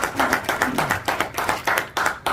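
Audience applause at a Heungsadan national officers' training gathering, a steady crowd clapping with rhythmic, pulsing bursts filling the whole stretch, loud and close.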